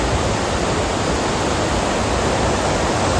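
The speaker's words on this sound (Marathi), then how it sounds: "इथून हा जो वॉटरफॉल दिसतोय" A waterfall near Khandi outside Pune sends up a constant, even rushing roar that fills the whole moment without a break and with no voices.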